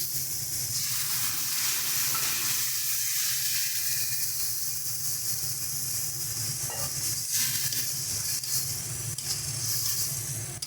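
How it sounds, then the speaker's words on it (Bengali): Masala for a katla fish kalia sizzles and hisses steadily in a hot pan with tomato paste added, a continuous close frying crackle with brief stirring disturbances and no voices. "মশলাটা ভালো মতন করে কষিয়ে নিয়েছি। এবার এর মধ্যে দিয়ে দেবো টমেটোর পেস্টটা।"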